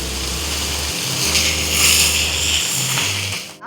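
Sliced onion dropped into the same hot oil used for a Kerala curry hisses with a broad, steady sizzle that swells and holds for a few seconds, close and fairly loud, with no talking.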